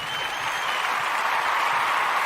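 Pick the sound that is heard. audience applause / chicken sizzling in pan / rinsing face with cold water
audience applause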